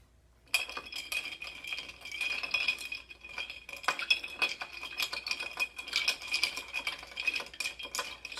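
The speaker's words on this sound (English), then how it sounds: "Stir this up a little bit." Smoked agave cocktail with Angostura bitters stirred in a glass: a bright, continuous metallic tinkling of a bar spoon against glass and ice, close and steady for several seconds after a brief quiet start.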